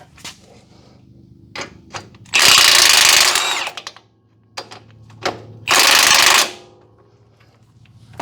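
Power tool working a 19 mm bottom bolt on a third-generation Toyota 4Runner, two loud bursts of rattling impact hammering separated by quieter clicks and knocks up close.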